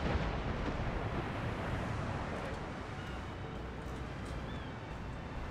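A ship explodes during a naval battle in Empire: Total War, heard as a loud, rumbling, broadband roar that starts strong and slowly fades over several seconds.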